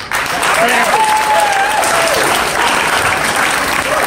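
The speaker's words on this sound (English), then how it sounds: "Round of applause for Pam" Sustained audience applause for Pam at a college orientation event, steady and dense throughout, with a faint voice briefly audible within the clapping.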